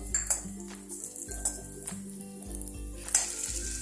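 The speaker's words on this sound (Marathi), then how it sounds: "त्याच तुपामध्ये थोडेसे बेदाणे पण आपण हलके भाजून घेऊ" Raisins roasting lightly in ghee give a soft, fairly faint sizzle, broken by a few light clinks and scrapes of a utensil against the pan, over a low background hum.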